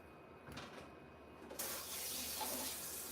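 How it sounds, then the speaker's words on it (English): Someone washes their hands under a running tap in a kitchen. A faint trickle and drips come first, then the water runs full and steady as a continuous close rush, with no talk. "Let me wash my hands real quick."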